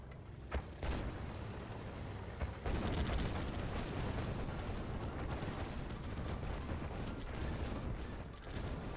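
Red Alert 2 battle with Kirov airships and Rhino tanks fighting Grizzly tanks, dense layered explosions, cannon blasts and mechanical clatter, loud and continuous with sharp louder hits scattered throughout.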